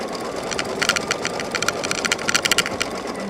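Embroidery machine sewing a satin stitch on a tag project, a fast, busy mechanical whirring with rapid needle clatter in uneven bursts, moderately close, with no voices.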